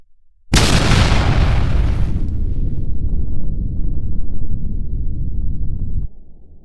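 A sudden loud blast from a bomb placed in a soda erupts at once, then a long roaring rumble holds for several seconds before cutting off, with no one speaking over it.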